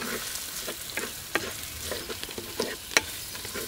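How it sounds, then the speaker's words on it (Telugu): Green chillies, turmeric, mint and coriander frying in a pot for Hyderabadi kichidi, a steady close sizzle broken by scattered scrapes and clinks of stirring. "ఇదంతా ఒక 2-3 నిమిషాలు బాగా వేయించుకోవాలి"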